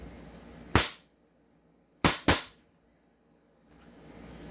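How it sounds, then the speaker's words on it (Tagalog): A 5.1 Trex Silver airsoft gun fires three sharp, loud cracks: one single shot, then a quick pair about a second later, with quiet between the shots. "Firing po tayo mga airsoft."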